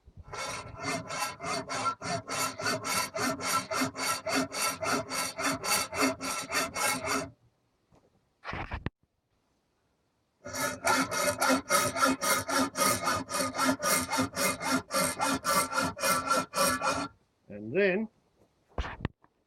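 A hand saw cuts a metal mounting bracket clamped in a vise, with long runs of steady back-and-forth rasping strokes, then a pause and another sustained bout of rhythmic sawing, close and loud.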